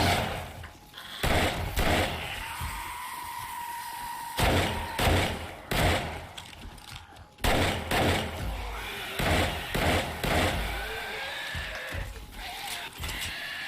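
Armor-piercing rounds fired in the 7 Days To Die video game, heard as a series of loud, sharp single gunshots spaced irregularly, each with a short booming tail, no talk.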